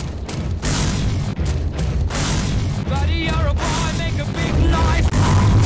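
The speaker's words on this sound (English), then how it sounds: "For example, this grenade throw." A thrown grenade in the 2003 Techland shooter Chrome, with game combat noise of sharp impacts and booming bursts across a few seconds, loud and close, while a voice talks over much of it.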